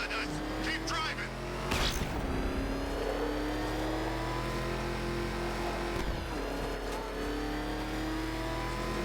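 A car driven in Batman: Arkham Knight, its engine droning steadily throughout with a rising rev and a brief surge near two seconds, mixed under game music and chatter.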